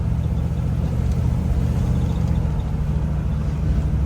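A 1957 Chevy Bel Air two-door Sport Coupe restomod idling, a steady close low rumble of the V8 engine with an even, unbroken drone and no talk over it.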